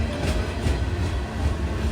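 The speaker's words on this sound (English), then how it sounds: "after this train passes." A CSX freight train rumbles past steadily at Slaughters, Kentucky, its wheels clattering in a continuous, fairly loud roar with no talk over it.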